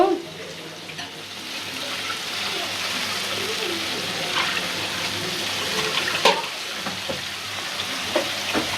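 Water is poured into a pan of koi fish cooking in a karahi, giving a steady, close hissing bubbling wash that runs the whole time, with a few brief clinks.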